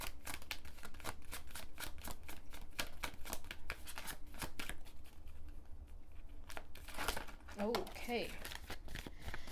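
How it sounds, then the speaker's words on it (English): Oracle cards are shuffled in a rapid run of dense, crisp riffles and flicks, then drawn with a papery rustle, close to the listener. A voice speaks briefly near the end. "I'm going to start by pulling an oracle card for what's at your energy, what's going on with you right now"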